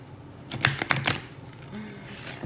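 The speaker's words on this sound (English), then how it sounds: "Do a little casino shuffle." A stiff, oversized tarot deck gets a casino-style shuffle, giving a quick cluster of sharp card clicks and riffle snaps close by, then softer shuffling handling.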